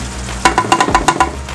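A spoon stirs pasta sauce for a spaghetti Florentine bake in a pan, making a quick run of rhythmic scraping, sloshing strokes close up over a low sizzle.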